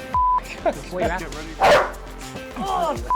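A dog barks and yips in several sharp, close bursts, spread across the moment, with people talking and exclaiming nervously around it as someone holds a hand near the animal.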